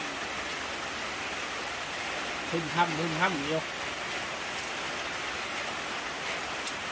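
Heavy rain pours down in a steady, dense hiss that fills the whole stretch, while a person speaks briefly partway through.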